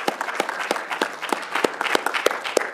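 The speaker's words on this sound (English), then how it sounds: "Let's give another round of applause." Sparse, uneven clapping from a small audience after a design charrette presentation, individual claps distinct and moderately near, with faint murmuring between them.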